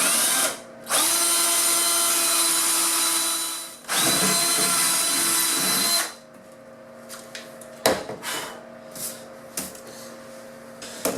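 A power drill bores holes in a part for a DIY Prusa-style 3D printer extruder stepper motor mount: two long, loud, steady whirring runs, then quieter clatter and handling noises with short bursts.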